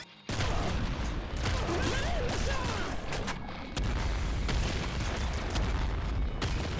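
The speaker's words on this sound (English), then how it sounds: "The radial explosion from one nuke, not enough to kill these enemies." Nuke explosions in the game Nuclear Throne, a dense and loud barrage of booming, crackling blasts that runs almost without a break, dipping briefly once midway.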